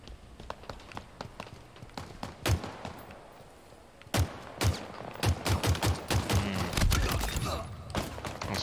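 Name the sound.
gunshots hitting a wall in the video game Halo Infinite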